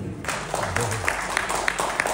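Applause at a film press meet for the movie Kannappa, a short burst of clapping from an audience, mixed with background voices.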